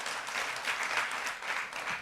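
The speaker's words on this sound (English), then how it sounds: "clap now" A short burst of audience clapping at a conference talk, a steady crowded patter of many hands at even volume throughout.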